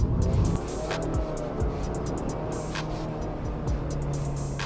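A 2023 Subaru WRX driven in manual mode holds a steady engine drone from inside the cabin, with a surge at the start and brief rises in pitch as the revs climb.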